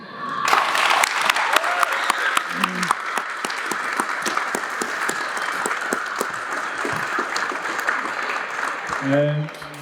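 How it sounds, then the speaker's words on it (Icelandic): An audience at a press conference for a footballer at Haukar FC breaks into sustained, dense applause lasting several seconds, close and loud, fading near the end as a voice starts talking. "Og ég ætla bara að fá að byrja á að kalla eftir klappi hérna."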